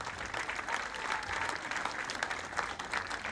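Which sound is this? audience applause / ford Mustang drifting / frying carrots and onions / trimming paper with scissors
audience applause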